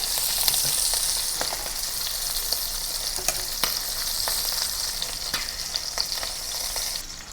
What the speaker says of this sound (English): And then pan fry the other side.